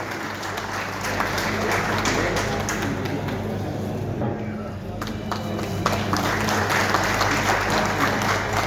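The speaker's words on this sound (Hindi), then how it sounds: "जोरदार तालियों से दिल से स्वागत करते हैं आपका" Sustained, loud applause from a large crowd roars steadily at a farewell ceremony for a DSP in Begusarai, with a voice speaking over it.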